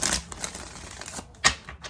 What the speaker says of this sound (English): let me shuffle up some more